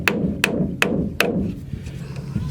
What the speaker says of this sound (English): it just seems like it's easier to hammer this way than trying to sit up and hammer in what is an awkward position.